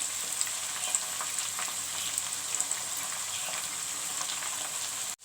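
Tomatoes with turmeric, crushed and ground red chili frying in a pan for a cabbage sabzi, giving a steady, dense sizzle with small crackles throughout, close and alone, cutting off abruptly at the end.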